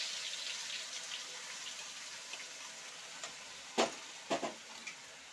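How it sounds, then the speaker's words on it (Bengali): Ground spice paste for a Bengali bhetki fish curry fries in hot oil, giving a steady, soft sizzling hiss broken by a few sharper pops and clicks. "আর আমি যে মশলাটা বেটেছি এই মশলাটা আমি তেলে দিয়ে দিচ্ছি।"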